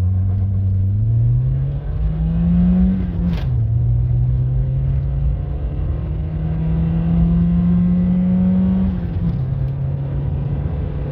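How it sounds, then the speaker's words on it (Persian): A car accelerating from a standstill toward 100 km/h, its engine rising steadily in pitch through the gears with two brief dips at the shifts, a loud close droning rumble throughout. "بریم صفر تا صدی که من زدم با این ماشین رو ببینیم"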